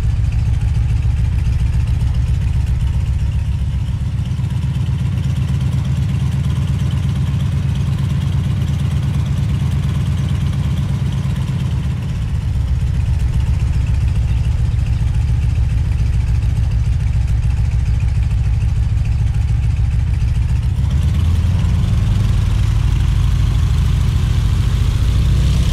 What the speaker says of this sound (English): When lined up and ready, slowly add full throttle.